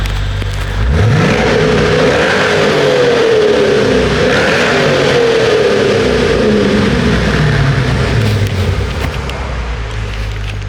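A car engine with a new exhaust revs hard and loud in a tunnel, the pitch climbing and falling through a long pull with a deep, throaty exhaust rumble.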